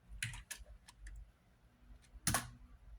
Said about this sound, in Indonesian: Cara penggunaannya tinggal ketik aja IP config.